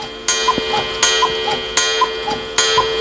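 An alarm clock ticks steadily and crisply, close up, with a regular beat over a faint electrical hum and no talk.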